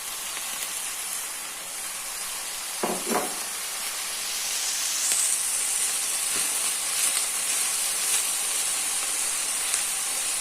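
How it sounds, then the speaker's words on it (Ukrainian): Peppers and broccoli frying in a pan, a continuous hiss of sizzling with a brief clatter of stirring early on, steady and moderately quiet. "Все смажиться"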